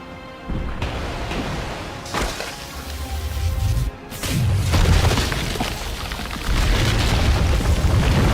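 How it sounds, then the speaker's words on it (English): Ion cannon weapon in Resident Evil 3 powering up and firing, a series of heavy booming blasts with rumbling low-end swells that build and sustain, loud and without speech. "Great, let's use this ion cannon again."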